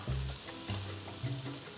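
Shrimp pan-frying to caramelize for a seafood alavar sauce, a short burst of soft sizzling over a low hum with gentle rises and falls.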